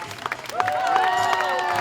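Spectators at the Atlantis Long Island Aquarium sea lion show clap and cheer, with scattered claps swelling into a sustained crowd roar and a tonal voice or whistle rising above it.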